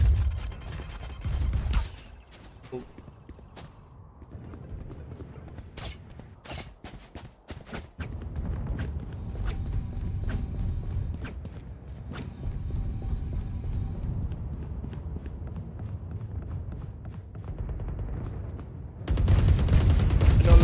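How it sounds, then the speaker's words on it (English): Gunfight in the video game Valorant, with dense bursts of rapid gunfire and sharp shots over a low rumbling game soundscape, steady throughout and swelling louder near the end. "A flurry of gunfights going on onto B side"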